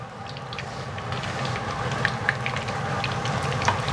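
Trout frying in butter over a medium flame, a steady soft sizzle with scattered crackles and pops, fairly faint and gradually growing slightly louder.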